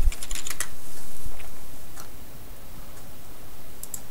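Someone types on a computer keyboard to log in, with quick bursts of light key clicks and short pauses, close and fairly quiet in an otherwise still room.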